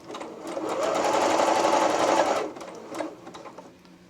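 Sewing machine stitching elastic onto a garment seam allowance, a steady close whirring run for about two and a half seconds, then brief quieter stops and short restarts.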